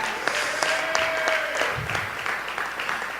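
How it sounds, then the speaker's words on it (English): An audience claps hands at a community talk event, a dense, steady burst of applause from a nearby crowd with a faint whistle or cheer over it. "Y'all make some noise, please. Clap your hands."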